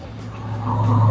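Weekend afternoon street traffic in Gatlinburg: a car engine drones close by and grows louder over a second, with a brief tire noise and no talking.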